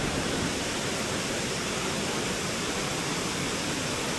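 Daranak Falls after rain pours in a constant, dense roar of falling water, loud and unbroken with no other sounds.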